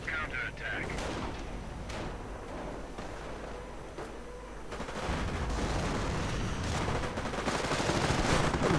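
Bursts of video-game gunfire and explosions crackle at a distance, some single shots and some rapid volleys, growing denser and louder toward the end as a voice talks over them.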